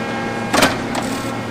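An industrial bending machine clamping, feeding and bending material, a steady mechanical hum with a short clunking burst and a fainter second clack.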